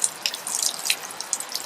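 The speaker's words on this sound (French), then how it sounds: "D'autres, comme Axel, prennent la direction d'une dernière douche en plein air" Water from an outdoor beach shower in Australia splashes and patters in quick irregular drips and spatters, fairly close and moderately loud, with no talk.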